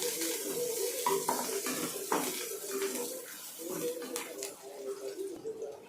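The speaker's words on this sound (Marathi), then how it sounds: "कढीपत्ता घालून घेऊया, अद्रक घालून घेऊया खिसून घेतलेलं, आणि हे आपल्याला लालसर होईपर्यंत परतून घ्यायचं आहे" Curry leaves and grated ginger sautéing in a pan for a Maharashtrian dal tadka, a quiet sizzle with clinks and scrapes of a spoon against the pan, under a voice talking throughout.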